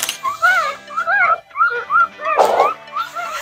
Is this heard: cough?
no